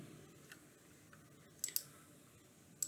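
A few sharp computer mouse clicks during a software installation, quiet and close, spaced apart against a faint room hum.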